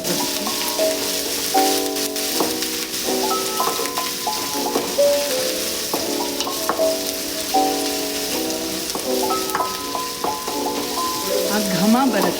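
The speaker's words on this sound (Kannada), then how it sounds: "ಇದು ಕಂದು ಬಣ್ಣ ಬರೋ ತನಕ ಸ್ವಲ್ಪ ಫ್ರೈ ಆಗಬೇಕು." Ginger garlic paste frying in a pan for chicken masala gravy, an even crackling sizzle throughout, moderately loud, with tonal background sounds layered over it.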